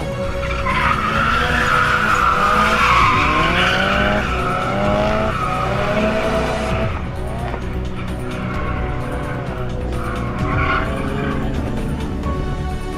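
Cars drift on a small drift track on Montreal's south shore, Quebec, with loud, sustained tire squeals rising and bending over revving engines, the screeching easing briefly midway before another car slides through.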